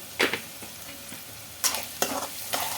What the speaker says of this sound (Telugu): బాగా గోల్డెన్ బ్రౌన్ కలర్ వచ్చే వరకు ఫ్రై చేసుకోవాలి